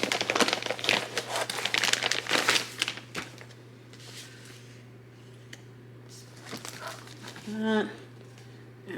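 K-pop album packaging torn open and crinkled by hand, with close rustling and ripping over the first few seconds, then quieter handling, and a person speaking briefly toward the end.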